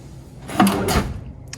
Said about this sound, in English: Got your three drawer nightstand.